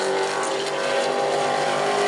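A Sportsman-division race car roars through a qualifying lap at New Smyrna, with a loud, sustained engine howl held at a steady pitch throughout.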